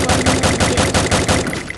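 Rapid automatic gunfire in the mobile battle royale game Free Fire, a loud, steady burst of evenly spaced shots lasting under two seconds with no talking.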